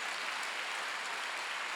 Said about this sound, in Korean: 박수로 하시죠.